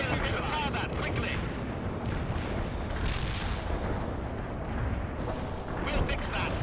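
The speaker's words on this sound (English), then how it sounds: "Air artillery is shooting right here." Artillery fire in the World in Conflict video game, repeated dull booms and crackling blasts from a battlefield under continuous radio-style voice chatter, heavy and dense throughout.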